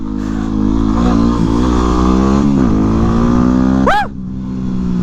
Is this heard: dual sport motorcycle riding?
yes